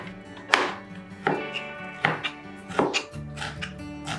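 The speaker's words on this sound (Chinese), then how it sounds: "果心切成这种小丁" A knife chops pineapple core into small dice on a board, roughly half a dozen sharp strikes at an uneven pace, over soft background music.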